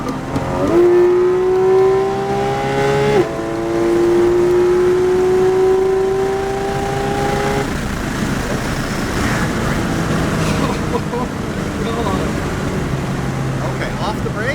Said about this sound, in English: I want you to give me a whole ton of gas